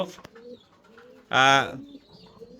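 A single loud, close pigeon coo rises out of a quiet background with faint, indistinct voices around it.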